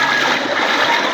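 Water overflowing from a canal and pouring out in a steady, loud rushing flow, a continuous broadband splash with no pauses.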